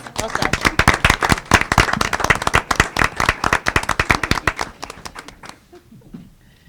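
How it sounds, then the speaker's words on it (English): A small group applauds at a school board of education meeting with dense, rapid, close hand claps that hold steady for several seconds and then thin out to a few scattered claps, with faint voices underneath. "Let's give them a round of applause."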